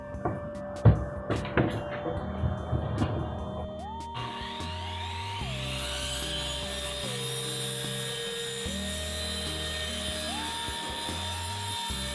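A roof rafter board for a tiny house is cut with a power saw, a steady loud whine holding for several seconds after a few sharp knocks and scrapes of setup, with no talking.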